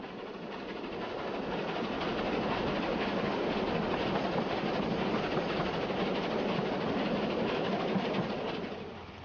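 A steam locomotive hauling the Orient Express climbs uphill from Petersfield toward Buriton Tunnel, its steady rushing chuff and rolling rumble swelling in and holding loud before easing at the end.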